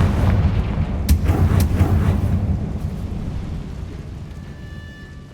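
A Confringo fire spell blasts in Hogwarts Legacy as a booming burst with a couple of sharp cracks, then a rumbling tail that fades out.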